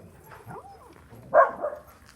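A dog gives a couple of short whimpering yips and a single sharper bark, fairly quiet and close, with little else around.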